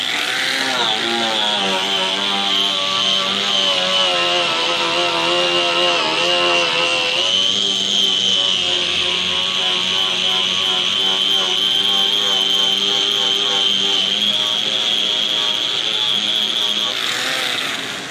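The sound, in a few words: power tool stripping paint from car trunk lid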